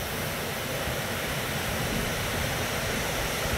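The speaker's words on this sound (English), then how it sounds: "You can see the mill wheel going off the mill race and flooding down to the Little Miami River below." Water pouring off a mill wheel and rushing down the mill race at Clifton Mill toward the Little Miami River, a dense, steady roar of flowing water heard close and loud with no voices.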